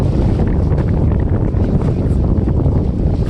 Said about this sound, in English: It's so windy. Especially here. We are on the pier.